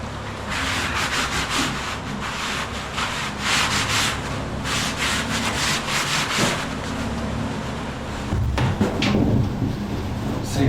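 Cloth rubbing and wiping across a fiberglass surface with methylated spirits while fitting new bulkheads below deck on a DIY sailboat, a steady scrubbing hiss with repeated strokes and occasional knocks, close and continuous.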